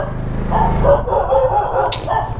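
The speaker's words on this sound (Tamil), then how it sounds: "நாய் வேறு கொலைக்குது." A street dog barks aggressively at night in a residential area during a food delivery run, with several loud, close yips and barks in quick succession.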